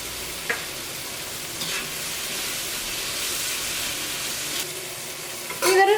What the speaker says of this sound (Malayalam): ഇതൊരു മീഡിയം ഫ്ലെയിമിലിട്ടിട്ട് ഈ തക്കാളി ഏറ്റവും നന്നായിട്ടൊന്ന് വേവിച്ചെടുക്കാം.